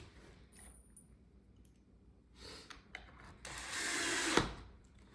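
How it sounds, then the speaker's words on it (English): Power drill driving pocket screws into a wooden farmhouse shoe bench, heard as a few short whirring bursts that build into one longer, louder run near the end, with a sharp click as it stops. "Install the pocket screws."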